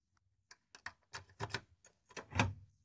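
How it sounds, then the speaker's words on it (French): Emergency key going into the lock of a BURG-WÄCHTER Expert safe: a short series of close, dry metallic clicks and taps, the last one the loudest, then quiet. "puis nous insérons la clé."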